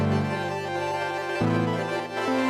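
Korg Volca Keys synth sample processed by a Sonicware Texture Lab in granular effects mode: sustained layered chordal tones with a shimmering granular texture, shifting pitch twice, steady and fairly loud with no talking.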